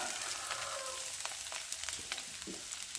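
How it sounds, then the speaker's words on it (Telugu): Two small chopped onions go into hot oil for a flat bean pakoda curry. A dense, even hiss of frying fills the short stretch, with a few crackling bursts. "ఇప్పుడు దానిలో మనం ఇదిగోండి 2 చిన్న ఉల్లిపాయలు కట్ చేసుకుని ఉంచుకున్నాను. ఇవి వేసుకుందాం."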